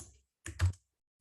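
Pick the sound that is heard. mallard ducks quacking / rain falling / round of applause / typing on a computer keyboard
typing on a computer keyboard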